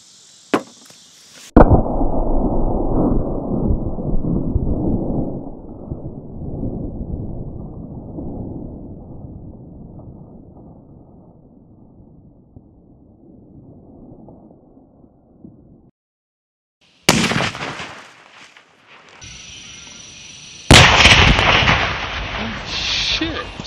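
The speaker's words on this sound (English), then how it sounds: "Fire in the hole." Tannerite in an outhouse shot with a rifle outdoors: a sharp crack, then a massive booming blast that rumbles and decays over many seconds, followed by further loud noise and voices.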